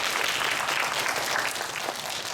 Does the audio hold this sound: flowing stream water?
no